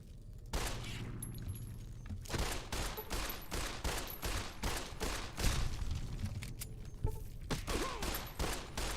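Rapid bursts of gunfire ring out in the video game Fallout New Vegas, sharp shots repeating in irregular clusters across the scene with no talking.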